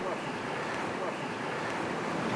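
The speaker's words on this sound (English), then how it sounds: "Just be quiet and listen to what we have around us. And that water, and this scenery, and this breeze" River water rushes steadily at a fly-fishing spot while a breeze blows, forming a continuous broad wash of sound with no pauses.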